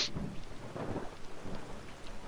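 Dense rain and rumbling thunder from a storm in the video game Skyrim (Skyblivion mod), a steady wash of rainfall with a low thunder roll running through it, no voices.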